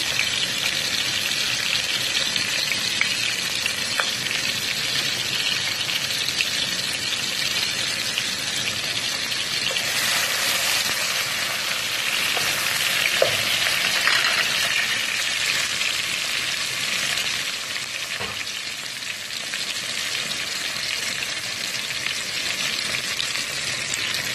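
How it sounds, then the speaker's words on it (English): Chopped onions fry in hot oil for Cameroon-style white beans, giving a loud, even, continuous sizzle with no let-up and no talk. "Once the oil is hot, I'm going to add in my onions."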